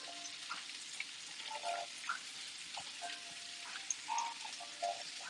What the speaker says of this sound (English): This is just to kind of sear and develop some flavor.